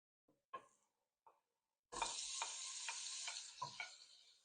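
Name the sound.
butter melting in a saucepan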